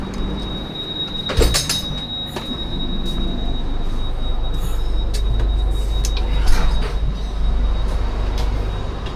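A train standing at a railway station platform near the 1AC coach, with steady rumbling and a broadband wash throughout, a sharp metallic clank near the start, occasional bangs and a faint high steady whine, no talk.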